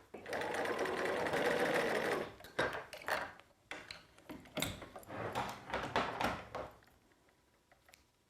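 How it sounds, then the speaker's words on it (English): A sewing machine stitches gathered fabric under the presser foot, running in a steady burst for about two seconds and then in shorter start-stop runs, close by with faint handling noises between. "as I stitch along, making sure I take my needles out as I go"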